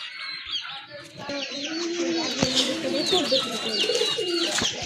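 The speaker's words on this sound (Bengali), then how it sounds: "এই যে দেখেন সবগুলো কবুতর একসাথে আছে" Local Bangladeshi pigeons coo together in a group, overlapping throaty warbles close by, with occasional flutters and a few clucks mixed in.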